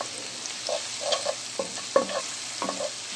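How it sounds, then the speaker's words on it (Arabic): Garlic sizzles in a hot pan while a spoon stirs and scrapes it in short repeated strokes over a soft, steady frying hiss. "نزلنا التومه نفضل نقلب فيها كده عشان تاخد لون واحد."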